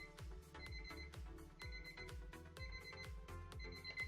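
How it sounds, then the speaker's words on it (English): A timer alarm rings out in repeated bursts of bright electronic beeping, four evenly spaced pulses, loud and steady with no talking over it. "There goes our timer."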